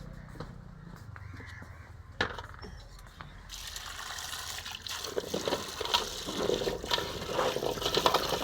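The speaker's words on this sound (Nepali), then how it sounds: "अब धारामा लगेँ, यसलाई पखाल्छु।" Lapsi fruit washed under a running tap: a steady wash of flowing water rises partway through, with a few scattered knocks and crow caws in the background.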